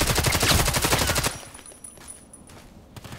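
Burst of automatic fire from an HK 243 light machine gun in the online shooter Contract Wars, a rapid dense rattle of shots for just over a second, then quiet ambient game sound.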